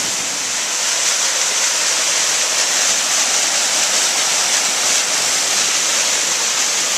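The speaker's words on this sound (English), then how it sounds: "Little waterfall coming down into the river." A small waterfall pours into a river, giving a steady, close, full rushing hiss of water with no break and no voices.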